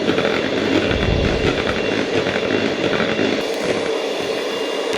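An electric beater whirs steadily while mixing egg yolks for a four-egg birthday cake batter, a loud continuous motor drone with a slight drop toward the end.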